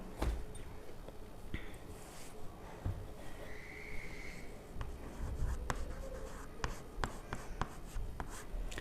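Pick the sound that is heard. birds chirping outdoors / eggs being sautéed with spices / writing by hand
writing by hand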